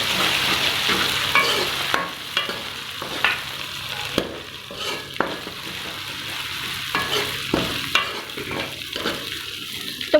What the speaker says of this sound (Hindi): लहसुन अदरक के पेस्ट को अच्छी तरह से भून लेंगे।